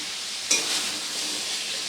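Fried pointed gourd (potol) tossed into a spice masala in a pan, with a single scrape of stirring at the start followed by a steady, close sizzle of frying oil.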